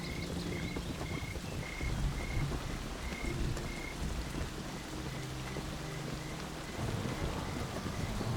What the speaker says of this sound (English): This sudden streak of rain seems abnormal.